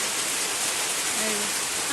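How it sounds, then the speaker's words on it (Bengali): Heavy rain driven by wind, a dense roaring wash of falling water close and loud, with a faint voice briefly rising near the end. "আজকে বৃষ্টির সাথে বাতাস হচ্ছে, দেখেন অবস্থা।"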